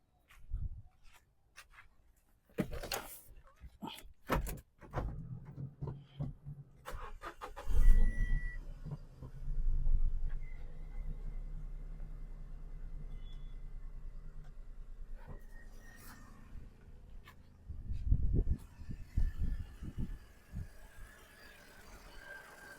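A Renault Kwid car's engine cranks and catches after some clicks and door handling, then settles into a low steady idle hum that runs on close by, with a few more knocks near the end and no voices.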